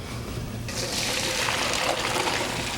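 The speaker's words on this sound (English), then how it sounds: "So now I'm going to take those out and drain them, because now what we need to do is chop these up. So drain them in a colander." Boiled dandelion greens and their cooking water pour into a colander, starting suddenly as a loud, steady rush of splashing water that keeps running to the end.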